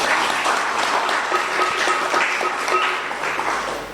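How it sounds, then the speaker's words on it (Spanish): A group at a bhakti yoga gathering gives a hearty round of applause for a woman named Belén. The clapping is steady and moderately loud, lasts about four seconds and stands alone without speech. "Un fuerte aplauso para Belén."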